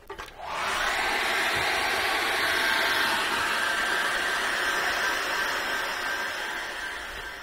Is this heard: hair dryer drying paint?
yes